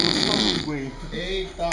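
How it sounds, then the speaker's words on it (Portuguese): A pig snores in slow, rough rhythmic breaths, close and fairly loud, while a person talks over it. "Ronca, parece um urso, um urubu."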